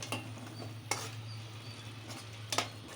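Ginger garlic paste fries in oil in a pan for chicken gravy curry, giving a faint low sizzle broken by three or four sharp scrapes and clinks of a spoon stirring against the pan.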